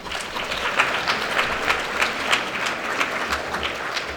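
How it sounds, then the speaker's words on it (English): Dense, steady applause from an awards ceremony audience fills the room, a continuous wash of many hands clapping with no voices over it. "Let's give another round of applause to Rhonda."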